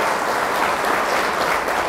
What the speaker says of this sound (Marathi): एकदा साधुकार देऊन टाळ്या वाजवून स्वागत करावं